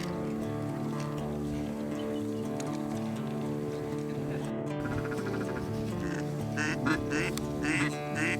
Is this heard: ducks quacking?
yes